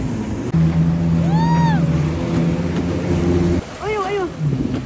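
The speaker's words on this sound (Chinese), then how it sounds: "来，再体会下一个项目——摩托艇" Jet ski engine droning on the sea, a steady close motor hum with a pitch shift partway, mixed with water and wind noise and occasional chirping sounds.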